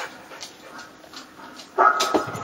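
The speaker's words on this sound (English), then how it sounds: "I think he's learning to bark and then lunge forward for his bite" Ranger, a dog in bark-hold training, whines softly at first, then lets out a loud, close bark near the end, followed by rougher vocal noise.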